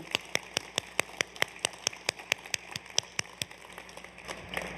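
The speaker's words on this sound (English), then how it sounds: "Let's get another round of applause for Jasper" Scattered, fairly sparse clapping at the Community Radio and Broadcast Online Awards, sharp individual claps in an irregular but steady rhythm over a soft background hum, moderately close and fairly quiet.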